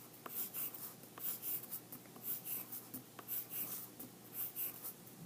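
A pencil scratches on paper while drawing rounded oval petals of a sunflower, quiet and close, with repeated rhythmic strokes pulsing about twice per second.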